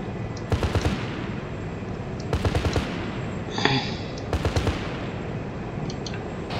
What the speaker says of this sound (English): now I'm gonna start firing with a cannon